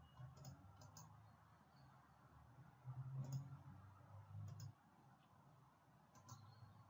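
A computer mouse right-clicks while a GeoGebra 3D model of a cylinder is being edited, giving a few faint, sharp clicks against quiet room hum.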